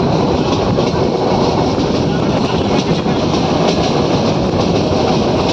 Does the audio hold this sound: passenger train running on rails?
yes